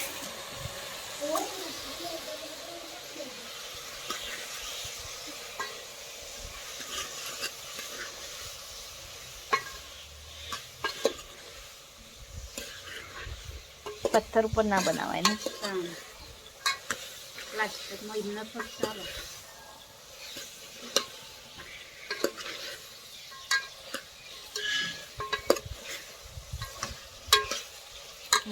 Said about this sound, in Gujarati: શાક વઘારી દીધું